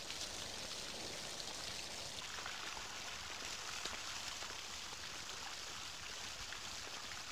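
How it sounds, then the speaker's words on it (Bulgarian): Rain falling in a steady, even hiss with a few soft drip patters, continuous and moderately quiet with no change throughout. "Този дъжд ще ни обърка."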